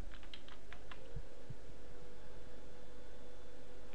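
Quick bursts of keystrokes on a computer keyboard as an application name is entered, clustered in the first second and a half and then giving way to a quiet room hum.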